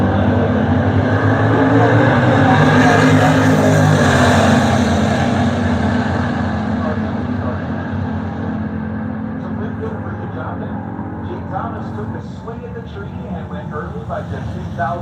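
A GTO and a 1973 Firebird drag racing down the strip, loud engine roar peaking early then fading into the distance as the cars run away, with a commentator talking over it.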